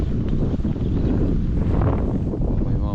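Cold wind gusts blow across a pine-dotted hillside campsite, buffeting the microphone with a loud, rough low rumble that stays steady for a few seconds.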